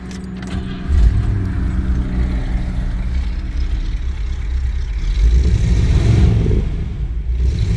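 A 1954 Cadillac engine cranks and catches after a jangle of keys, then settles into a steady, deep idle close by that swells briefly as the throttle is blipped.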